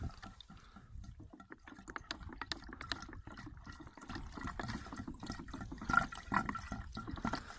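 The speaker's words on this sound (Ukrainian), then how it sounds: "Заливаю отработку бак." Waste oil thinned with solvent is poured into a car's fuel tank, giving an irregular gurgling, splashing trickle with small drips and clinks up close, fairly quiet throughout.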